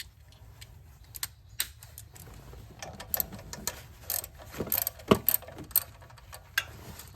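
Bolts on the fuel rail of a Ford Ranger being snugged down with a ratchet, producing quiet, irregular clicking and metallic ticks spread over several seconds, with a few sharper clicks in the middle and no talking.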